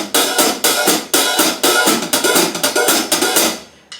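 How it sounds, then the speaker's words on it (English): Drum-set hi-hat played in a rapid steady pattern while the foot pedal opens and closes it, giving bright sizzling strokes that swell and choke, close and continuous for about four seconds before stopping. "You might hear sounds from my hi-hat that sound like this."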